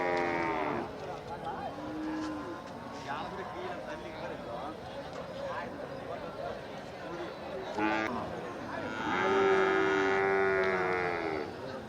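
Cattle at a bullock market in Chettithangal low out in long drawn moos, one near the start and a louder, sustained one toward the end, over constant crowd chatter and people talking.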